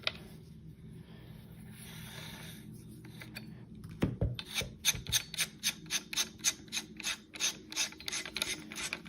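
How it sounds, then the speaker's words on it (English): A hex key turning to loosen the fitting on a DeWalt 20V MAX angle grinder: a quiet rubbing start, then a sharp knock followed by a steady series of rapid ratcheting clicks, close and distinct. "And now you can turn the hex key to either lock it if you go clockwise, or unlock it if you go counterclockwise."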